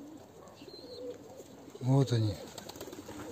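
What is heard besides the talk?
rock pigeons cooing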